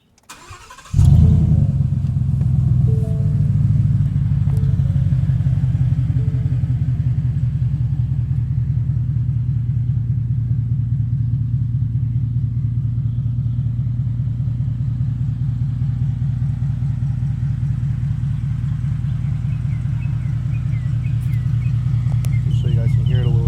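A 2017 Ford F-150 pickup truck's engine cranks and catches about one second in, then settles into a steady, loud, low idle rumble that continues unbroken for over twenty seconds with no one talking.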